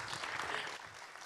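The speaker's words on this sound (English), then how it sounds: "Round of applause." Audience applause at a university conference after a panel discussion, a brief burst of dense, steady clapping filling the room.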